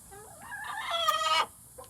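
A Bantam Barred Rock rooster at a cabin gives a single crow that rises and holds, clear and fairly near in a quiet setting, with a short extra squawk afterward.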